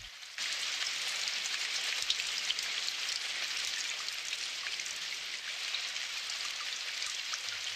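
Steady rain pouring down in a Doraemon cartoon scene, a dense, even hiss of falling drops that starts abruptly and continues unbroken, loud and close with no voices.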